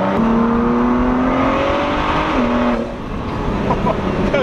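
A 2017 Ford GT engine runs loud and close, its droning tone rising and shifting in pitch as it revs, then easing briefly before climbing again.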